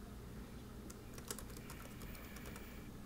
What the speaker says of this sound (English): just type in your username and password